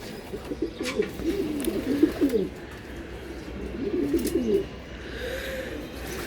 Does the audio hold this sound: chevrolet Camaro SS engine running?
no